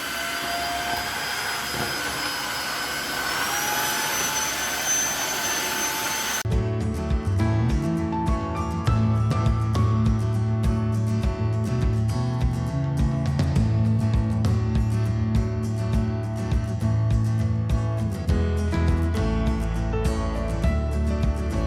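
A Tineco iFloor 3 floor cleaner vacuums up small bits of cardboard: a quiet start, then the motor switches on into a loud, steady whirring drone with rolling brush noise that runs to the end, no talking.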